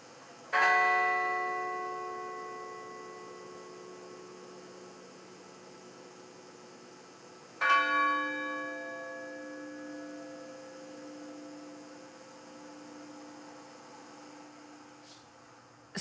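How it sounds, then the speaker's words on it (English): Two solemn strikes of a memorial bell at the 9/11 anniversary observance, spaced about seven seconds apart, each ringing out and slowly decaying over a steady low hum. "the chime of a bell to remember each individual life."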